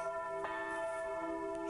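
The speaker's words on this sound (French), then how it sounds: "Clochette en bronze" A small bronze bell rings softly, ringing steadily with a couple of faint strikes, alone and fairly quiet.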